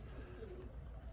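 A flock of white pigeons coos softly in low, rounded murmurs that overlap in a faint, steady background, with no talking.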